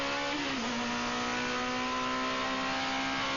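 A GT race car's engine holds a steady high-pitched drone at Zolder in 2001, with a brief dip and recovery of pitch as a sequential semi-automatic gear change goes through.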